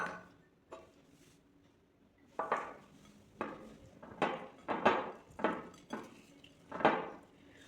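Onion, chopped ginger and slit green chilies stirred in a pot for rice pulao, giving a run of clattering spoon scrapes and knocks that come in bursts, nearby and moderately loud, with no talk.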